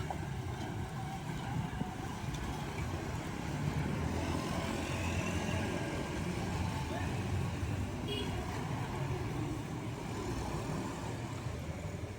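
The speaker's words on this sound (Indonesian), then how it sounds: "Oke, ada bus mikro mini." A minibus passing at a railway crossing, heard as a continuous broadband traffic rumble with a nearby idling engine, steady and moderately loud throughout.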